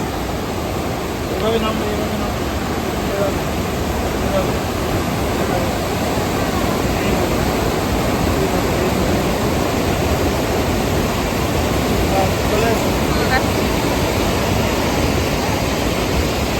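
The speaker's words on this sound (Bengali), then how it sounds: "দেখো জলের স্রোত" A fast stream rushes through the hilly Dooars countryside, making a loud, unbroken roar of churning water that stays close and constant throughout.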